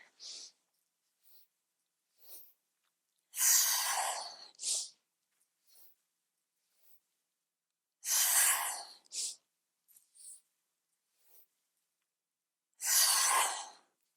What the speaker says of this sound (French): c'est une respiration très dynamique qui va permettre de réchauffer et de réveiller le corps en même temps